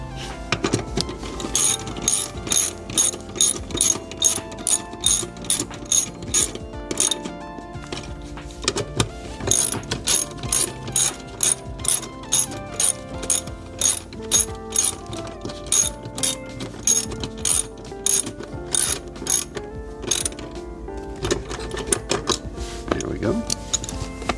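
Rapid ratcheting clicks as seat bolts are tightened by hand under the passenger seat of a Lexus LX, in quick bursts of repeated clicks with short pauses, close and fairly loud.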